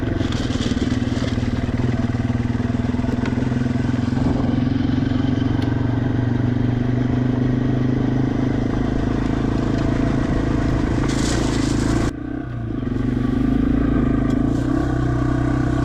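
A Yamaha TW200 motorcycle rides continuously along an abandoned railroad trail, its engine droning loud and close while gravel crunches and the bike clatters. The engine dips briefly, then picks up again.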